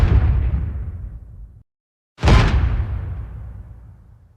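Remastered anniversary explosion effect from Halo 3, two loud booming blasts with long decaying tails separated by a brief silence, no talking.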